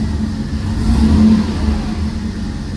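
A Mercedes C32 AMG running on E85 revs up sharply and settles back a couple of times as the throttle is blipped, a steady close engine note with a swelling peak in the middle and no talk.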